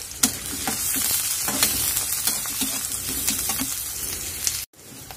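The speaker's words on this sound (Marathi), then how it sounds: "तर आता आपण यात कांदे घालूया आणि छान परतून घेऊया." Onions sizzling hard in hot oil in a pan over high heat after garlic, with a bright crackling hiss and occasional stirring scrapes, then a brief drop to silence near the end.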